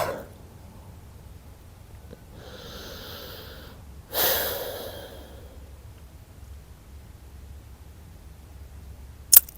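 Slow, soft breathing during a yoga pose, two gentle breaths drawn out over several seconds against quiet room hum, no talking.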